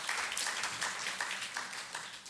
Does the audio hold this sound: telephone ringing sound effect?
no